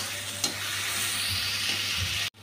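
Green chillies hiss and sizzle in hot oil alongside bay leaf and onion, a steady close frying sound with a brief spoon scrape, then a sudden cut near the end.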